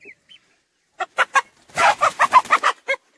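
Several short clucking calls from a chicken, close by, coming in quick bursts with brief pauses between them.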